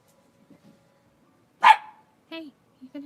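A small dog named Coco gives a sharp, loud bark followed by a few shorter yips and whines indoors, with brief quiet gaps between them.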